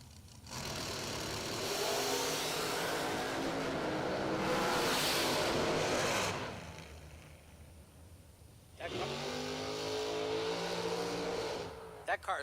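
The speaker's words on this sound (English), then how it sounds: "That car is loud from start to finish." A drag racing car at a bracket event roars loudly down the track with a sustained engine note, fades briefly, then another loud engine pass follows, with an announcer talking over it.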